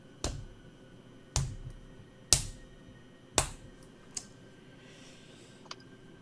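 Slow, deliberate clapping in a quiet interior, four loud sharp claps spaced about a second apart followed by two fainter ones, each echoing briefly.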